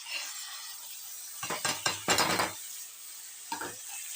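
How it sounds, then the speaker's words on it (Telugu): Tomatoes drop into a hot frying pan for egg curry: a quiet pan, then a burst of sizzling splashes and stirring scrapes, with one more short sizzle moments later. "టమాటాలు వేస్తున్నానండి."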